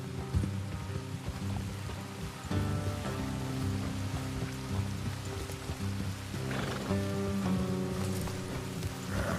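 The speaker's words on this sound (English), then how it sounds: "Let's leave the horses here and go the rest on foot." Horses in Red Dead Redemption 2 whinny and neigh loudly over soft hoof clip-clops, with a steady patter of rain behind them throughout.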